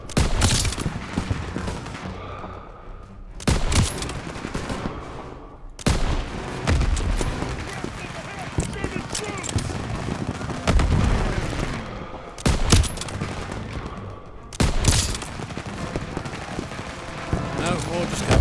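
Heavy gunfire and explosions from the World War II shooter Call of Duty WWII, loud bursts and booming blasts repeating through the fight, with shouted voices of soldiers over the din.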